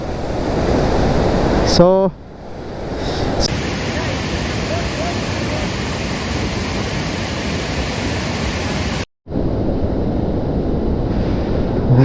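Surlabi waterfall near Sakaleshpura in the monsoon roars as a dense, steady rush of water, loud and close, with wind buffeting the microphone and a brief cutout near the end.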